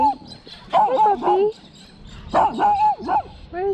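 A German Shepherd gives yipping, whining barks in two short bursts, close by and fairly loud, with a person's voice in between.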